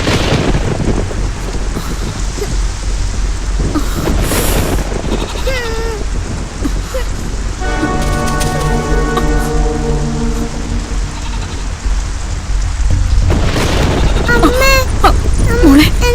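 Steady rain pours throughout a dramatic movie scene, with a low rumble of thunder beneath it; a voice speaks over the downpour at several points.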